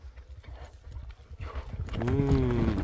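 A horse kept for ulak, the winter goat-dragging game, gallops with a fast, steady drumming of hooves. A louder, tonal rumble builds over the hoofbeats toward the end.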